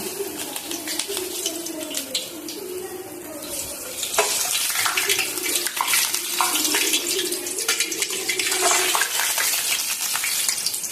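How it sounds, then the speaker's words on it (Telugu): Pressed rice flour appalu with mint deep-fry in hot oil in a kadai, a dense bubbling hiss that grows louder and fuller midway as more pieces go in, close and continuous with no talk. "ఆయిల్ వేడయ్యాక మనం పూరి ప్రెస్తో ఒత్తుకున్న అప్పాలను వేసి వేయించుకోవాలి"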